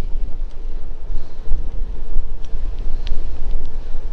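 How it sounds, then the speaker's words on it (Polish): Strong wind buffets the microphone during a bike ride with a loud low rumble and gusty roar, constant throughout with no voices. "Straszny wiatr jest."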